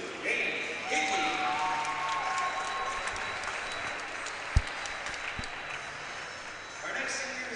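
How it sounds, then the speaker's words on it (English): Sustained crowd applause fills a hockey arena during a senior night ceremony, steady and fairly distant, with a couple of sharp thumps and a voice briefly audible beneath. "How about a nice round of applause for number 32, Dane Hickey."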